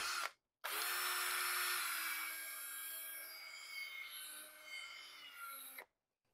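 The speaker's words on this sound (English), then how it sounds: "the first step is going to be drilling into your cap with about a 1/4-inch drill bit." A power drill with a 1/4-inch bit bores into a plastic cap for a small hydroponic setup. After a brief pause, a close, steady, whining drill runs for about five seconds, then cuts off. No one speaks.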